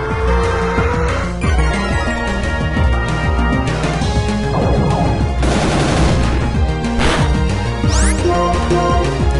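Magnet Bomb attack in the Pokémon Black 2 video game: a dense, continuous burst of rapid crackling blasts and metallic clanging over game music, loud and unbroken, with a rising sweep near the end.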